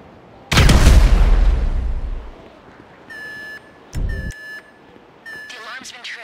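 Security alarm tripped during a heist in GTA 5: a loud blast opens, followed by repeated electronic alarm beeps in short bursts with another thump midway, and the beeping rises and falls near the end.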